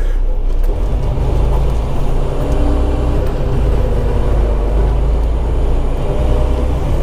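A gas truck's engine rumbles steadily while driving, a loud, continuous low drone with road noise that holds without a break.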